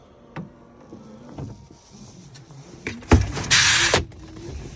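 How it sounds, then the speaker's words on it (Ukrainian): Electric tailgate on a 2014 Volvo V70 wagon closing: a steady motor whir rises near the end and runs for about a second, then a firm thud as the lid shuts, heard close with no talk. "Кришка у нас електрична."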